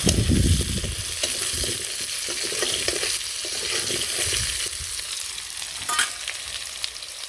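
Potatoes fry in a pan with a steady, close sizzle in a village kitchen, a few louder stirring scrapes breaking in near the start and again toward the end.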